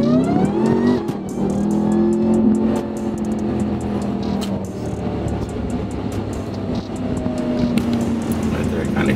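A 1,350 hp Ram TRX truck engine revving hard and loud up to its RPM limit, with the tone rising and then holding, plus crackling pops throughout and someone talking over it.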